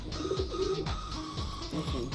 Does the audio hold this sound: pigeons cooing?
yes